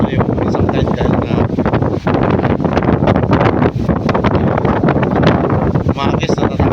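Strong wind roars and buffets a microphone at 7 Commando Beach, loud and unbroken throughout, with a voice talking faintly underneath.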